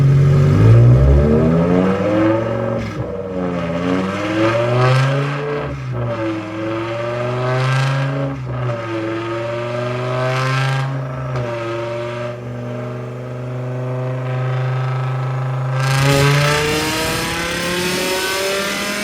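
Two outlaw BMW E60 M5 V10 engines running on E85 are revved hard on a dyno, each pull a loud, continuous rising wail through the gears, with brief shift dips and a final sustained scream near the end.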